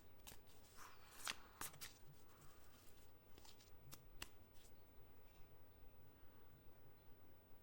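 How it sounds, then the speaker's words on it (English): Tarot cards are shuffled close by in soft, riffling bursts with sharp flicks and taps, quiet and without voices. "let me do a little reshuffle"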